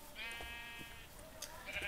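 A sheep in Minecraft gives a clear wavering bleat, moderately loud and near, followed by fainter game sounds, with no talking.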